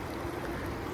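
Urine and cleaning water drain out of the bottom of a soaked shag rug as a brief, continuous, close watery rush.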